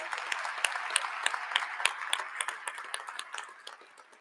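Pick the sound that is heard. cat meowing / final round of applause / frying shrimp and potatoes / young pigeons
final round of applause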